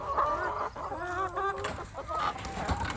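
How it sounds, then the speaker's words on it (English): A backyard flock of hens fussing near their laying boxes, with close, overlapping clucks and drawn-out warbling calls in quick succession. "This is our flock. Some of them are in there laying right now."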